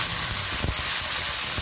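Chopped gongura leaves hit hot oil in a pan with mustard seeds, cumin and asafoetida, giving a loud, constant close sizzle broken by a couple of soft stirring thumps.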